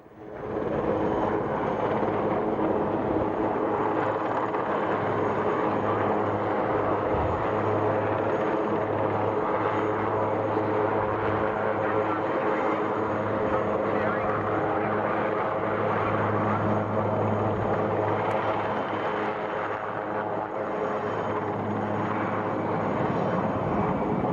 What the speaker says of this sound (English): Reinforcements arrive courtesy of an Aerospatiale Puma and demonstrate the technique of abseiling